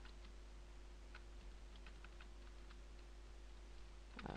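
Typing on a desktop tower PC keyboard: a steady run of light, quick key clicks, faint and fairly close, over a constant low hum, with no voices.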